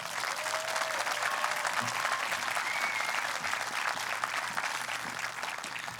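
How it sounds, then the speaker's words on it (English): Steady, sustained applause from an audience at a school graduation and promotion ceremony, even and continuous throughout with no voices standing out. "Big round of applause for these students"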